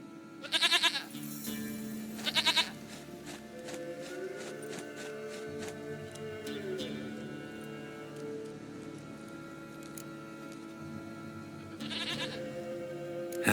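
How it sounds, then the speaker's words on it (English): A goat in The Witcher 3 bleats in three short, loud bursts, two close together at the start and one near the end, over a steady game ambience. "Goat of mine, dearest, sweetest goat."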